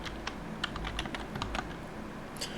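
Typing on a new computer keyboard: a quick, uneven run of crisp key clicks with a few heavier strokes, up close against a low steady background hum.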